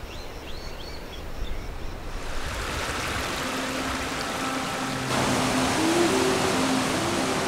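Water of the Debed River in northern Armenia flowing past the bank, a continuous broad rushing wash that grows louder partway through, with faint birdsong in the background.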